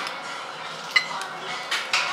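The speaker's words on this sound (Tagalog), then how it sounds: "Haluin natin guys ito sa kanin" Utensils scrape and clink in a bowl as breakfast meat is mixed into rice in Nagoya, Japan, a steady soft clatter with a few sharper clicks near the end.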